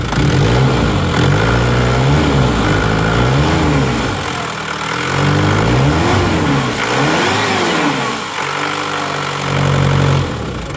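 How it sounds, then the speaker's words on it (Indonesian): A repaired car engine at the Nono repair workshop runs smoothly, its steady hum swelling and easing through several gentle revs over about ten seconds, loud and close with no talking. "Untuk suara mesinnya seperti ini teman-teman, halus kan?"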